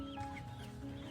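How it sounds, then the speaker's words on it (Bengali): Chickens cluck faintly in a busy poultry section of the Parulia livestock market, a brief, soft stretch of clucking over a low crowd murmur. "দেখো কত হাঁস মুরগি"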